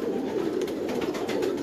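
Pigeons coo in a steady, continuous murmur close by, a Karachi pigeon keeper's birds, including striped and blue-coloured ones, with no talking over them.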